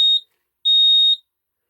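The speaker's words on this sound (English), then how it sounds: "2 beeps, and it's off." A power relay board switching off gives two sharp, high electronic beeps, a short one followed by a longer one, loud and close in otherwise total silence.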